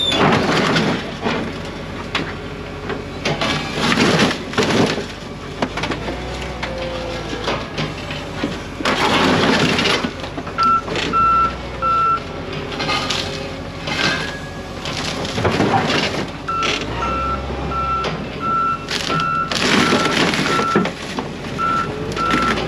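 Heavy junkyard machinery works steadily while cars are crushed flat and a Camaro is loaded onto a truck, with low rumbling engine noise and loud crunching bursts, plus repeated high reversing beeps in the later part.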